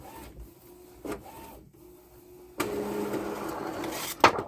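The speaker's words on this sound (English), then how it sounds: "So it's printing now." Canon TC-20 24-inch wide-format printer running a nozzle check: repeated mechanical whirs and hums, then a louder stretch of rasping, rubbing carriage noise ending in a sharp clack, close and clear with no talking.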